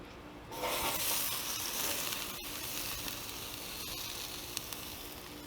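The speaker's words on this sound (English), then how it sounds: "They have been oiled and seasoned just like the corn, so they'll be dumped into the grill basket for cooking." Oiled, seasoned summer vegetables tipped into a grill basket set off a loud, steady sizzle and hiss that holds for several seconds, with a couple of small clicks and no talking.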